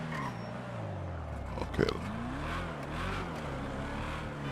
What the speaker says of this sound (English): Drive my little Subaru.